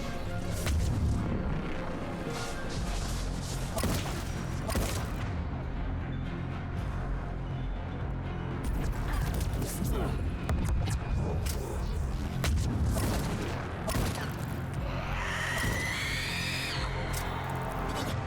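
Pistol shots in the video game Mass Effect 3 sound as repeated sharp cracks among loud, dense battle noise of impacts and rumbling, sustained for the whole stretch, with a rising whistling effect near the end.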